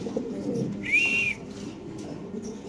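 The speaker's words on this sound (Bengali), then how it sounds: "পুরো পাগলামি করতেছে কবুতরগুলো মাশাআল্লাহ, পুরা অ্যাক্টিভ আছে" Silver Lahori pigeons give a single brief, whistly coo, fairly close, over a low background murmur of a pigeon market.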